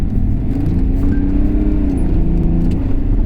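BMW E39 530d diesel saloon accelerating hard, a loud, steady in-cabin engine drone and rising rumble that holds throughout, with no one speaking.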